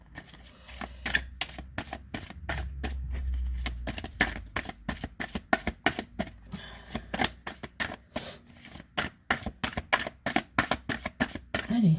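Tarot cards are shuffled and dealt by hand, giving a long run of crisp flicking riffles and sharp snaps at an uneven pace, close and clear with no talk over them.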